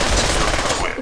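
Rapid automatic gunfire in the Pavlov VR shooter game blasts as a dense, continuous, loud fusillade for a moment, with no clear gaps.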